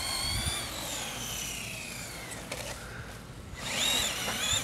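A battery-powered toy monster truck driving, its faint whining electric motor rising and falling in pitch, with a brief gap before the whine picks up again.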